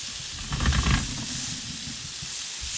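Garlic and spices, including cumin, sizzle in a hot pan alongside a New York strip steak, a steady bright hiss with a denser burst of crackle and pops near the start, close and continuous.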